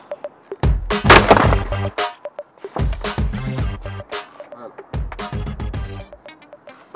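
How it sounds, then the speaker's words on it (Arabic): Gunshots fired at a shooting club: three loud, sharp, broadband blasts spaced about two seconds apart, each with a short ringing tail, with quieter voices and handling noise between them. "أول طلقة ناجحة جدا الحمد لله."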